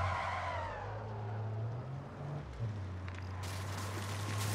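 A car driven in MW3 Zombies, its engine droning low with pitch shifts as it changes speed, tyres skidding briefly, and a burst of bright noise near the end.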